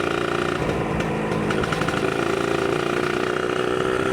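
A standard, unmodified Suzuki Satria two-stroke motorcycle runs steadily nearby with a smooth, buzzing engine note that stays even throughout, with no talk.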